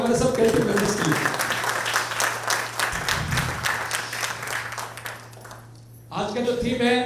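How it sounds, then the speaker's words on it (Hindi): Loud, dense applause from an audience at a school annual day celebration, steady clapping throughout with a brief dip before swelling again near the end. "एक बार जोरदार ताली हमारे सब कैंटीन मेंबर्स के लिए।"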